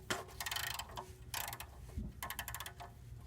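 A ratchet tightens the oil drain plug on a 2001 Ford Taurus SE wagon, giving three close bursts of quick, even clicks separated by short pauses, with no talking.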